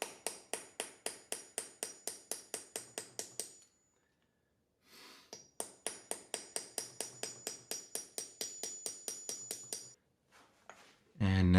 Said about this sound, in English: we can now tap out the 2 tabs in the washer key that lock the retainer nut in place. I'm just using a nail set for that.